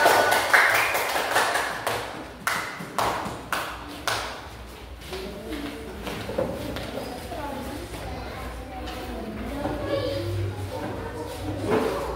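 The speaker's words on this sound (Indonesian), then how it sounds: "tepuk tangan untuk kelompok 1" Applause for the first group at an Indonesian training session, a burst of clapping in the opening seconds that fades into room chatter and talking.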